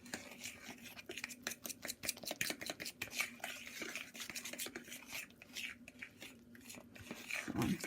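Batter for an upside-down apple and pecan cake being mixed by hand in a bowl, with steady scraping and clinking strokes of a utensil against the bowl, close and fairly quiet, with no talking.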